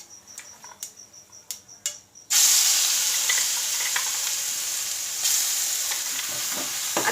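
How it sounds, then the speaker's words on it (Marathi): Spice paste hits hot oil with cumin and mustard seeds, bursting into a loud, sustained sizzle after a few light taps and clinks, close and steady with no voices. "आता हे जे वाटण तयार करून घेतलेलं आहे ते यामध्ये आपण घालूया।"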